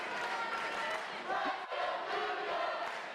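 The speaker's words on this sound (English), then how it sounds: "You can hear the Scott crowd cheering for him." Crowd at a state wrestling championship match cheering in a steady, dense roar that fills the whole clip, with a brief dip midway and a voice faintly audible within it.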